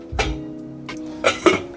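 A lid goes onto a pot of potatoes in cold water on the stove, giving a short clatter followed by two quick metallic clinks close by.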